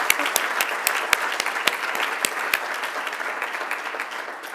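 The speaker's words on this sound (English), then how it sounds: "let's clap to that" Audience at a Dartmouth Center for Social Impact 10th anniversary celebration claps in a brisk, even burst, with a few sharp nearby claps standing out before it tapers off.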